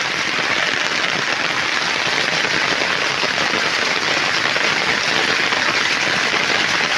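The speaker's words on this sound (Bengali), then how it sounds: "আবার জোরে এলো বৃষ্টি" Heavy rain pours steadily and loudly without a break, a dense broadband hiss of downpour with floodwater entering houses, no voices over it.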